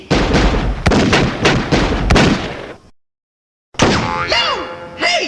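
Rapid gunfire from The Mask: The Origin, a Windows 3.x game, crackles in loud repeated bursts, breaks off into silence, then gives way to cartoonish boinging sound effects.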